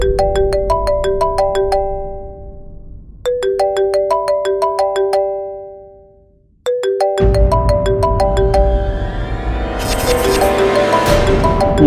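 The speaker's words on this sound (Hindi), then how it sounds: "शिवाय फोन उठा।" A melodic electronic ringtone plays in repeating bursts, pausing briefly between rounds, then swells louder with a rising wash of noise near the end.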